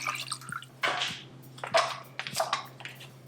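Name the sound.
water filling Instant Pot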